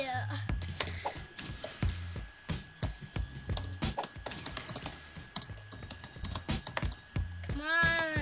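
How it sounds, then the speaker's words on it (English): Rapid clicking of a computer keyboard while someone plays Stick RPG 2 on a computer, with busy keystrokes running throughout and a brief melodic game tone near the end. "You can hear my typing."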